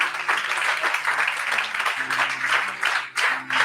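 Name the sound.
church congregation applause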